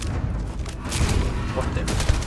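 Revolver gunfire in the video game Starfield, with dense, loud booming shots layered into a continuous roar over about two seconds.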